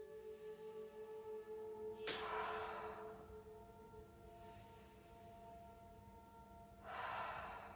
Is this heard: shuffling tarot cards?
no